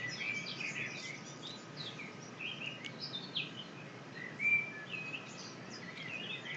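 Several birds sing and chirp outdoors in a calm natural setting, scattered high calls and short trills over a soft, constant background hum, fairly faint and distant.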